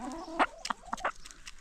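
Hens give a burst of short, close clucks and soft murmuring calls while pecking at food, a few quick notes in under two seconds.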